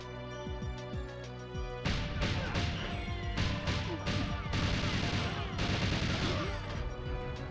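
Gunfire in the video game GoldenEye 007, a rapid fusillade of loud shots and impacts with a penetrating weapon, continuous over a steady game soundtrack after a quieter opening with a few lighter hits.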